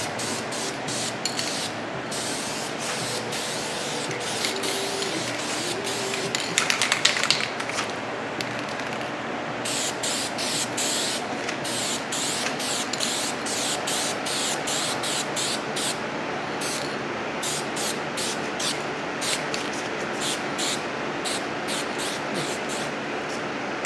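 A spray can fogs metallic paint onto a drag bike fairing in a run of short hissing bursts, some longer and some clipped, with brief pauses between passes and no talk.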